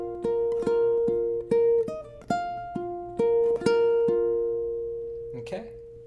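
A theme on ukulele: clear plucked single notes in a steady, repeating rhythm, each ringing briefly before the next, played alone and close with a final brushed strum.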